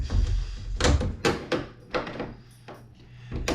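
Swedish Mauser rifle at a range having its bolt and flip safety worked, giving a series of close, solid metallic clacks and thunks spaced irregularly, with no talk.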